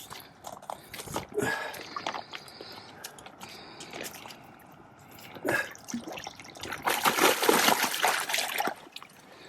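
A carp thrashes and splashes in shallow water close by, irregular bursts of splatter and trickling between quieter gaps.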